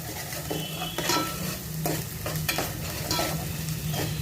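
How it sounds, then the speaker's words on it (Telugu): Four spoons of ginger paste fry in hot oil in a pan, a steady close sizzle broken by several louder stirring scrapes, with no talking. "వేసుకుని ఆ పచ్చి వాసన పోయేదాకా వేయించుకోవాలి నూనెలో"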